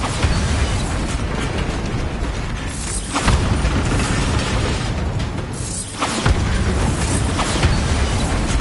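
Bombarda spell blasts in Hogwarts Legacy on PS4, a dense, loud roar of explosive noise filling the scene with brief dips and renewed bursts, no speech over it.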